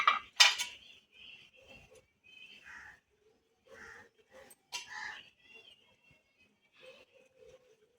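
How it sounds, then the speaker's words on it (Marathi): Metal idli steamer plates clatter and clink as they are greased with oil, a few sharp bright knocks at the start and middle followed by softer scattered scrapes and taps, close by with no speech. "हे इडलीच्या भांड्याला तेल पण लावून घेत आहे"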